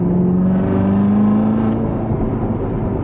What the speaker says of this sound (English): There's nothing like that LT5 super loud exhaust and rumble.